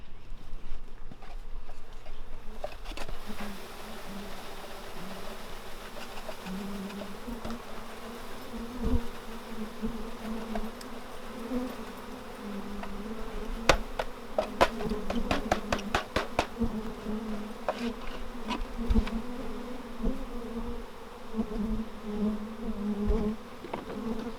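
A dense, steady drone of many honeybees buzzing close by, with occasional small taps and clicks under the hum.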